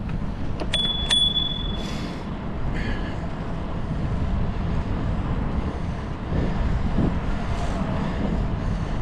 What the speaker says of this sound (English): My bell on my bike is not operating correctly.